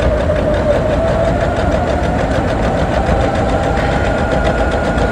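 A Baby Lock sewing machine runs at a slowed speed to wind a bobbin, giving a steady, continuous motor hum with a faint rhythmic whir, close and alone.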